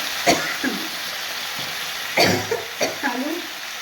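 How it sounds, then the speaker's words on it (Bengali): Potatoes browning in oil in a pan send up a continuous hiss of frying, with a few sharp knocks and brief rustling bursts of stirring. "আলুগুলোকে লাল করে ভেজে নিচ্ছি"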